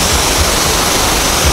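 Compressed air blasting water droplets off the sides and roof of a freshly washed car with a nano-coating, a steady broadband rushing hiss that stays loud and unbroken throughout, with no talking.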